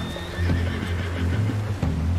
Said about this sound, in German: Pferdi!